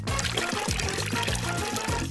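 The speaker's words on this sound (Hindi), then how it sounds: "अभी हम इसमें पानी डालेंगे।" Water poured over candies laid out in a dish, a steady close pour with a continuous liquid splash throughout, faint low harmonic tones underneath.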